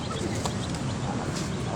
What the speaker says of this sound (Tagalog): Ay mga manok.